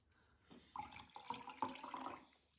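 Pickle juice is poured into a glass, a soft splashing, gurgling trickle that builds and carries on for a couple of seconds. It is fairly quiet and close, with no talk.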